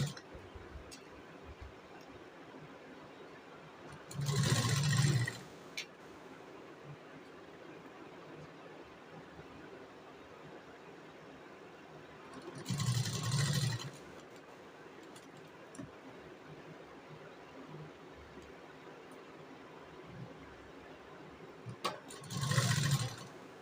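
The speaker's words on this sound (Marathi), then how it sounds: "आता ह्याला व्यवस्थित फिनिशिंगमध्ये शिलाई मारून घ्यायची." A sewing machine stitches the folded edge of a short blouse sleeve in three separate bursts of whirring, each a few seconds long with quiet gaps between, close and moderately loud.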